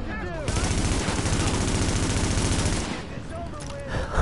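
Sustained rapid automatic gunfire from The Division, a dense burst of shots lasting a couple of seconds at close range, with brief quieter moments before and after.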